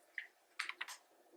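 Quiet computer keyboard typing, a single click followed by a quick cluster of three or four keystrokes, faint and close with no talking.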